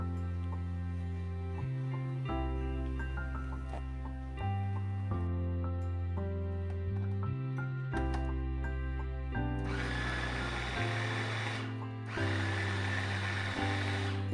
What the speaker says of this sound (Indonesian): aku sengaja menggunakan chopper karena aku ingin tekstur jagungnya ini tidak terlalu halus dan tidak terlalu berair.